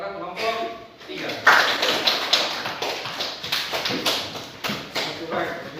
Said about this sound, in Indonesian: kita berikan aplaus kepada kelompok 3